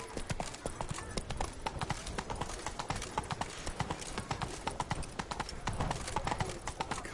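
Roach, Geralt's horse in The Witcher 3: Blood and Wine, gallops at a fast, even clip-clop rhythm, hooves pounding close and loud without pause throughout.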